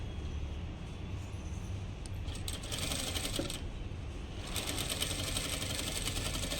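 A sewing machine runs steadily while stitching thread piping, giving a continuous rumbling drone with a brighter rattling texture that swells in the second half, with no voices.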